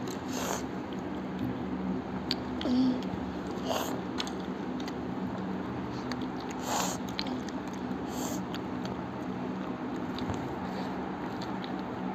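Close, wet biting and chewing on a chicken leg during a speed-eating challenge, with irregular bites and a few snorting breaths over a steady background hum.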